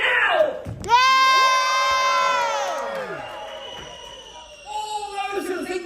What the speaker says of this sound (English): Cheer now!